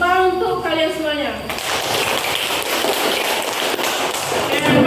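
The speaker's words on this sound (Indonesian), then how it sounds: "Tepuk tangan untuk kalian semuanya." A class of students applauding together, a dense burst of clapping that starts sharply after a voice speaks and continues loudly to the end.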